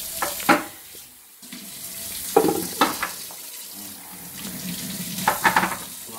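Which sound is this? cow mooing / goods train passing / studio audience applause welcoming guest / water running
water running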